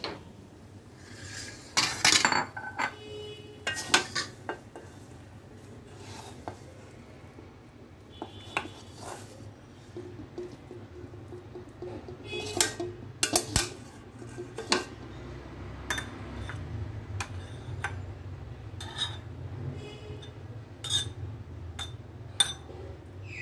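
Cooked plantain peel curry being served from a pan into a bowl, with repeated sharp clinks and scrapes of a spoon against metal and glass dishes, some loud and close, spread across a low kitchen background.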